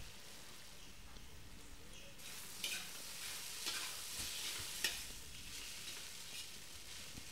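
Poha with vegetables such as tomatoes and coconut being stirred in a pan, a faint soft sizzle with light scraping that picks up midway, quiet and distant, no voices.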